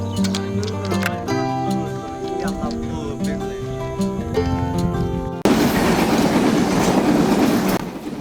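A train passes through a village: sustained horn-like tones give way to a loud, dense roar of wheels and rail cars close by, holding steady before easing slightly at the end.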